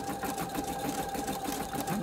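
A sewing machine running forward while stitching a child's apron, a steady close whirring hum with a quick rhythmic needle pulse throughout.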